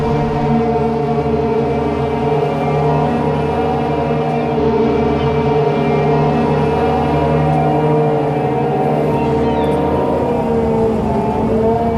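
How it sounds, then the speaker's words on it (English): A loud, steady engine drone with churning, rumbling undertones runs continuously as an amphibious vehicle motors through water. "A little bit noisy. It's driving in the water."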